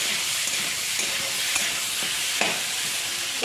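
Vegetable curry with ginger, cumin, green chilli, salt and turmeric sizzles steadily in a pan, a continuous close frying hiss broken by occasional scrapes and stirs of a spoon.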